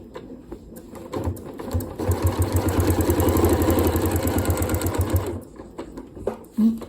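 A Janome Horizon Memory Craft 9480 QC Professional sewing machine stitching during ruler quilting, a close, steady rapid mechanical whir that starts, runs evenly for several seconds and then stops.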